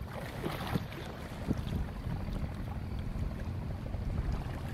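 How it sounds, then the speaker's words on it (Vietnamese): Fishing boat engine from a Bình Định vessel heading out near Phú Quý island, a steady low rumble mixed with wind and water noise across the whole stretch, no voices. "Chiếc này thì đang chạy ra hàng ghe lưới để mà thu mua hải sản."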